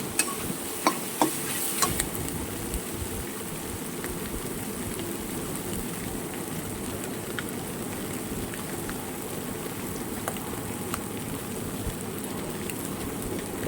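Fish head and onions fry in a wok with a steady, rain-like crackling sizzle, close and unbroken, with a few sharper ticks near the start and no talk.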